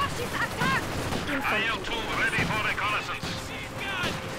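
Rapid bursts of machine gun fire rattle amid battle noise in Company of Heroes 2 during a winter defense mission, dense and continuous with overlapping shots and distant booms.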